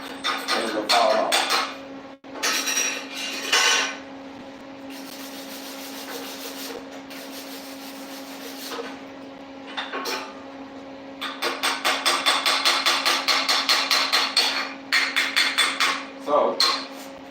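Welding slag is raked off a fresh weld with loud, close scraping and knocking strokes in bursts, ending in a fast run of rhythmic scrapes over a steady electrical hum.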